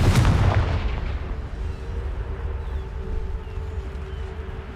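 Confringo fire spell cast in the Hogwarts Legacy video game, a loud booming blast at the start that rolls off into a sustained low rumble and hiss, with no voices.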